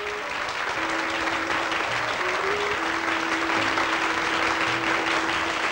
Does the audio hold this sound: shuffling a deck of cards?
no